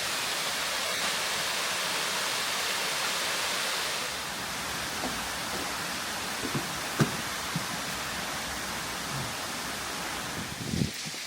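Yongchu Falls in Jecheon, South Korea roars continuously in the distance, a dense, steady rush of falling water with faint scattered knocks.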